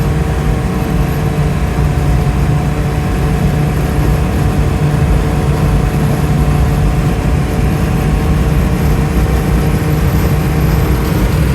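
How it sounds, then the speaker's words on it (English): A rebuilt V8 in a 1962 Mercedes-Benz 220SEb Cabriolet pulls hard at highway speed, producing a steady, loud low engine drone mixed with road and wind noise for the whole stretch. "The rebuilt 8-cylinder engine really accelerates extremely well."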